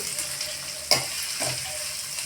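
Onions frying in a pan for a mixed vegetable bhaji, a steady sizzle with a sharp clack of a spoon followed by a softer stirring stroke.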